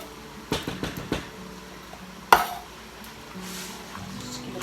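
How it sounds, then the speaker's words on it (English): A spoon stirs cheddar cheese soup with Rotel tomatoes in a pot for a taco bake, giving a few quick scrapes and one sharp knock against the pot, followed by a soft simmer. "Just give it a good stir."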